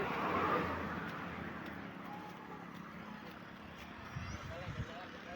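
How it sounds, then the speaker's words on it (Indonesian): A car passes on a damaged road, a broad rushing swell loudest at the start and fading away, with people talking over it. "Mobil, mobil, mobil."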